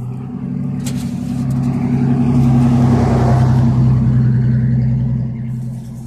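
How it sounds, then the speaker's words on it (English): A loud Ford truck drives past close by, its deep engine rumble building to a peak midway and then fading as it moves off, with no talking over it. "Loud truck coming."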